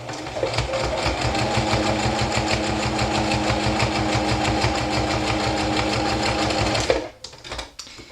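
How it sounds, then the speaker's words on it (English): A sewing machine runs a regular stitch along cotton masks in one fast, steady, rhythmic burst of close, loud needle clatter for about seven seconds before it stops, followed by brief fabric handling. "So I'm going to sew these just with a regular stitch."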